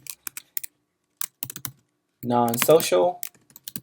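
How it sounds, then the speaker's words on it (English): Rapid bursts of keystrokes on a computer keyboard as functions are entered into a spreadsheet, close and crisp, with a spoken phrase breaking in partway through. "I'm going to begin by typing in the functions of the behaviors"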